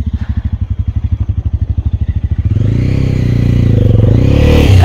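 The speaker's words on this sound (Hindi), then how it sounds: "मतलब बाइक ला रहे चौड़े हो रहे" A motorcycle on a high mountain road in the Gurez Valley area, its engine pulsing in a steady idle-like rhythm before swelling into a louder, closer revving roar as it passes.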